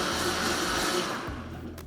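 A blender whirs loudly and continuously as it purees margarita ingredients, including Grand Marnier, then the motor winds down toward the end.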